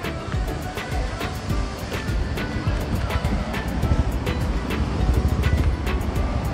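Water rushes through the Dadupur barrage on the Yamuna at Yamunanagar in a constant, heavy roar. The flow is loud and close, a broad surging noise that swells slightly toward the end.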